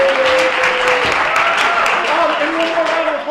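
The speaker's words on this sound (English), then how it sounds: "can we give our judges one more round of applause?" Steady, loud round of applause from the audience at a school Othello scene night for the judges, dense clapping throughout with some faint vocal tones and murmurs underneath.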